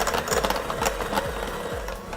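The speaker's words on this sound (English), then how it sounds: "You can use a hand mixer just as easily." Hand mixer whirring steadily as it beats butter for frosting, a close, continuous motor buzz with rhythmic pulsing as the beaters churn through the butter.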